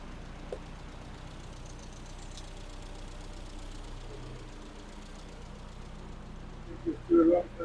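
A classic Mini engine idles on a rolling road, a steady low continuous hum held evenly throughout, with a brief louder burst near the very end.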